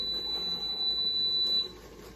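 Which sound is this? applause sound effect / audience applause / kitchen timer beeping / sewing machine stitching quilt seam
kitchen timer beeping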